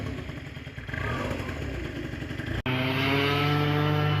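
An MBK Stunt scooter engine runs steadily while warming up, a buzzing two-stroke drone close by, briefly cut and then resuming with a clear tonal hum, with no talking.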